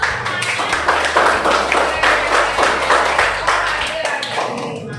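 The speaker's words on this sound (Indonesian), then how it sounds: "tepuk tangan dulu dong" A class of schoolchildren claps hands together in the morning, a busy, close patter of claps over a low steady hum, with voices mixed in.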